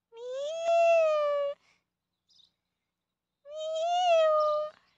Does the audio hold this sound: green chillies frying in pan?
no